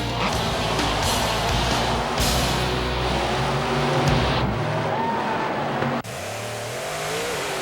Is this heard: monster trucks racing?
yes